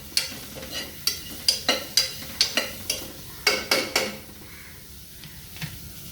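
Onions and chopped leeks cooking in a pan for oyster soup, with a run of sharp stirring clacks against the pan over a faint sizzle, about a dozen quick scrapes before it settles quieter.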